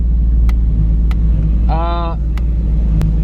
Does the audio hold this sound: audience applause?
no